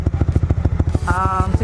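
A Yamaha NMAX V2 scooter with an RS8 Redlak exhaust and 63 mm big-valve head idles with a close, rapid, lumpy popping pulse, then briefly revs up into a rising, raspy whine.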